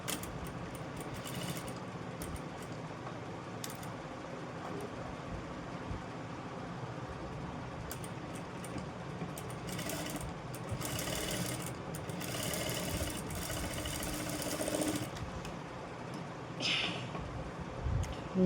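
Sewing machine stitching the neck shape of a blouse, a faint continuous whirring hum that runs steadily with small swells, quiet and close, no talking.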